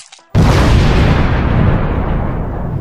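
A boomalope bursts in RimWorld, a sudden loud blast that cuts in after a brief quiet moment and then rolls on as a long, dense rumble that slowly fades.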